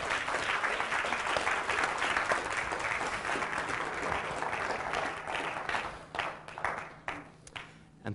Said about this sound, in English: Let's give Mamoun a big round of applause.